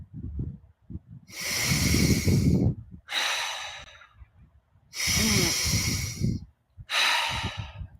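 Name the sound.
deep breathing during breathwork exercise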